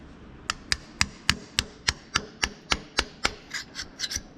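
Steady hammer strikes on a metal scraper, about a dozen sharp taps at an even rhythm, close and loud, getting slightly softer toward the end.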